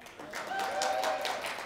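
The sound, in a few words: applause for Juan and Emma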